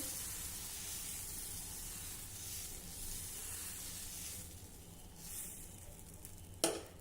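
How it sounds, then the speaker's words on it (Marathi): Edani batter spread thin on a hot pan for a traditional Khandeshi flatbread hisses and sizzles steadily up close, fading slightly before a sharp clink near the end, with no talking. "एडणीचं मिश्रण घालू आणि अगदी पटपट आपल्याला हे पसरवायचं आहे"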